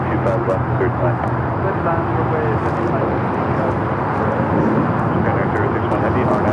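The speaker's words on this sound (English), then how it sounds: "This is United Express 5607 taking off to Phoenix on the E175" A United Express Embraer E175 jet taking off at Los Angeles airport gives a steady broadband engine roar, continuous and fairly loud, with airfield background noise around it.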